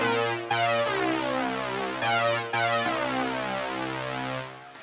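Sync lead synth patch programmed on a Roland JX-8P playing a melodic line of sustained, bright, buzzy notes with a few sharp note changes, loud and alone.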